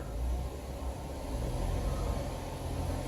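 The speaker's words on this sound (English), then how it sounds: "So I think we're gonna rev it up a little bit, maybe put it in drive with the foot on the brake" A 2011 GMC Terrain sits in drive with the brake held while its engine is revved gently, giving a steady low, close rumble with mild swells and no talk.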